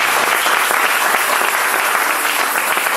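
A church congregation claps in praise of the Lord, with dense, steady applause filling the room throughout.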